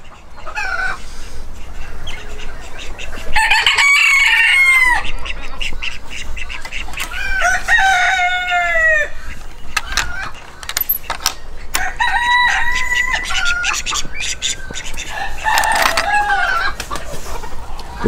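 A backyard breeding flock of chickens fills the air with repeated cackles, clucks and several long crowing calls, loud and close, one after another with brief pauses.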